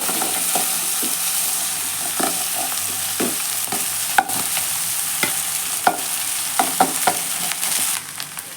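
Cooked rice stirred into capsicum in a hot pan, a steady soft sizzle beneath repeated scraping and tapping of a spoon against the pan at an uneven rhythm.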